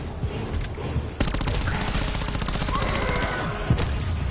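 Rapid automatic gunfire in Call of Duty Black Ops 4, a dense sustained stream of shots firing continuously and loudly, with a couple of sharper bangs standing out.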